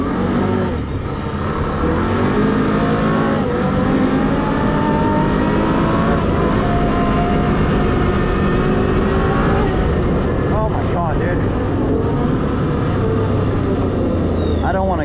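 A Can-Am four-wheeler engine drones and revs steadily on a gravel road, a continuous loud motor roar with shifting pitch as it accelerates.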